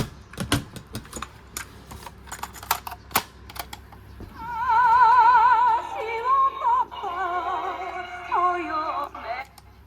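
Several sharp mechanical clicks like buttons being pressed on an AIWA RM-P3 portable cassette radio, then a cassette playing through its small built-in speaker: thin, warbling music with wavering pitch.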